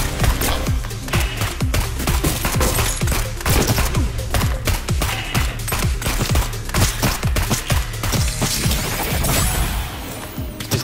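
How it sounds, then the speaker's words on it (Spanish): Rapid automatic gunfire in the roguelike shooter Neon Abyss, a dense, continuous rattle of shots and crashing hits layered over a driving electronic music track, loud and sustained throughout. "Disparo automáticamente a los enemigos"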